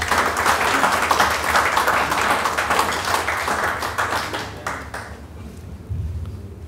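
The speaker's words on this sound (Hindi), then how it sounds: "इस्तकबाल कीजिए भरपूर तालियों में जनाब आसिफ अख्तर साहब का।" Hearty applause from an audience at a farewell ceremony welcoming Asif Akhtar, dense steady clapping for several seconds that thins and dies away near the end.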